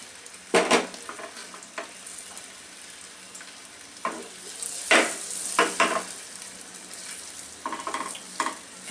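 Boiled eggs fry in masala for a dhaba-style anda masala, with a soft sizzle running throughout and punctuated by several sharp scrapes and clatters of a spoon stirring in the pan.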